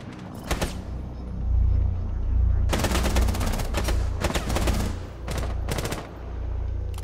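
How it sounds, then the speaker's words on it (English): Bursts of SMG gunfire in the shooter game Rainbow Six Siege, a single short burst followed by several rapid, loud volleys over a low rumbling background. "Kevier's SMG is unfortunately kind of weak."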